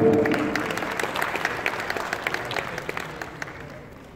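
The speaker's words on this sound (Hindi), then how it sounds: "आप सबके लिए भरपूर तालियां।" A crowd at a poetry gathering applauds steadily, many hands clapping together in a dense wash that gradually thins toward the end.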